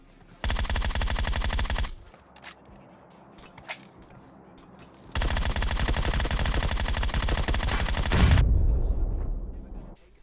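Automatic gunfire in PUBG Mobile as a player knocks down a teammate, two long rapid bursts of rattling shots separated by a short pause, loud and close.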